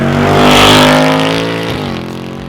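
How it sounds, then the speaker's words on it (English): A 2024 Ford Mustang Dark Horse on a dyno, its exhaust fitted with an H-pipe and its resonator removed, gives a loud, close V8 roar that climbs in pitch, peaks, then winds down again. "Whatever Ford did with these mufflers, it sounds amazing without that resonator"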